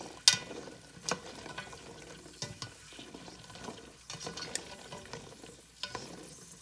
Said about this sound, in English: you want to hear those popping sounds going on with them busting and releasing all their